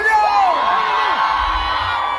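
A big crowd of women at the Baía das Gatas festival cheers and screams together, a loud, sustained roar with high shrieks and whoops rising and falling throughout.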